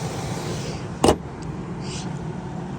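A 2001 Ford F150 with the 5.4 engine idles with a steady low rumble, broken once midway by a brief sharp clunk, with faint higher noises later and no talking.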